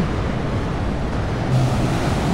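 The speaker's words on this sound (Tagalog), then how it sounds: "Lakas ng alon." Loud, steady roar of heavy surf crashing nearby on a beach at Dingalan, Aurora, after rain, a continuous wash of breaking waves with gusty wind noise, growing slightly stronger toward the end.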